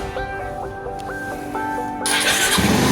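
A motorcycle engine is started before an early-morning ride: a rising tonal whine from the starter is followed by the engine catching and running loudly at close range.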